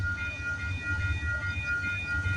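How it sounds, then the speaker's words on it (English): CPKC freight train 119 from Montreal's St. Luc Yard to Edmonton, locomotive 8125 leading, passes on a rainy morning as a steady low rumble with a faint high metallic whine, close and continuous throughout. "Symbol on this train here is CPKC 119."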